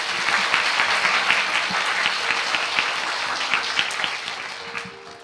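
An audience at a Korean actor's talk event applauds the sign language interpreter. A dense, steady burst of clapping from a crowd lasts about five seconds and tapers slightly at the end.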